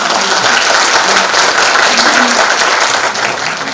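An audience at a social workers' day ceremony in Hamyang applauds loudly and steadily, dense clapping filling the whole stretch without a pause.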